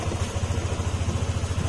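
Motorcycle engine idling after fuel injector and TPS repair work, a close, steady low-pitched pulsing putter with even rhythm throughout, no talking.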